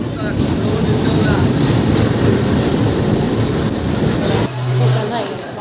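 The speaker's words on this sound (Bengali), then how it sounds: "লোকাল ট্রেন মুড়ির টিন চলছে" A local train to Rajshahi rumbles steadily with dense rolling noise and faint clatter, continuous throughout, with a brief low horn-like tone near the end.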